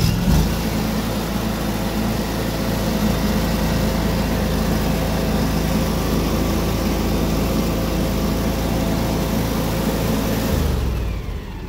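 A John Deere X728 4x4 lawn tractor engine throttled up, holding a loud steady mid-pitched drone for about ten seconds before dropping away abruptly at the end.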